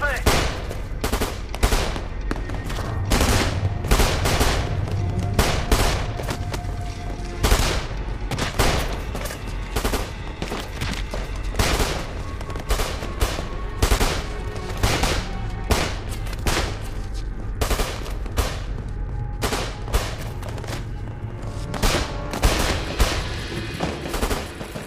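Dense war-film gunfire rattles on without pause, loud machine-gun fusillades and single shots in combat at a mosque, with shouted voices mixed in beneath the barrage.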